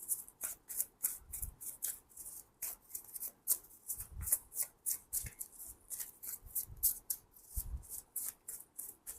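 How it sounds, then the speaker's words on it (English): Tarot cards are shuffled by hand in quick, repeated riffling bursts with soft thumps between them, close and quiet with no talking. "Let me give it a good shuffle"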